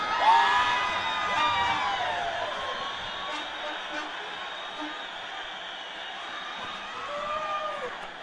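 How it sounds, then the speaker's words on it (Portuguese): Football crowd at a Vila Real versus Guarani match cheering and shouting, with high whoops and yells rising at the start and again near the end over a steady background crowd murmur. "Quero ouvir o grito da torcida aí."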